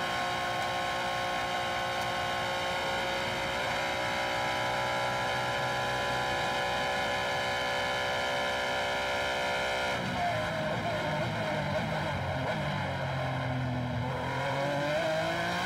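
An FIA F3 race car at the Macau Grand Prix, heard onboard as its engine screams loud and high, holding a steady pitch before dropping through downshifts and climbing again under throttle.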